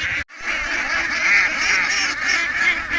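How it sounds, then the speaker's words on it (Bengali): A dense flock of ducks quacks continuously and loudly on a duck farm beside a pond, the overlapping calls forming a steady clamour after a brief silent gap near the start. "হাঁসের এই কোলাহল শুনতে"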